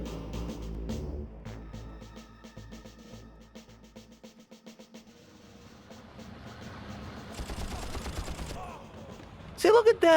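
Gunfire in the shooter Far Cry, several sharp shots and bursts over a low engine-like drone, fading in the middle, then a loud close cluster of shots at the end; a voice speaks faintly underneath.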